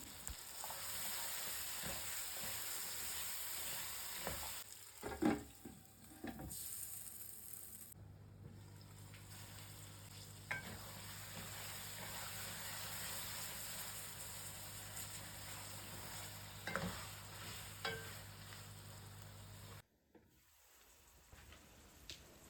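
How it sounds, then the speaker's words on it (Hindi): Carrots and potatoes fry with spices in a pan, giving a steady, close sizzle throughout with occasional scraping and stirring sounds and no talking. "गाजर और आलू को 5 मिनट भूनने के बाद"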